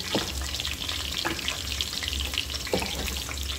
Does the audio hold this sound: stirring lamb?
yes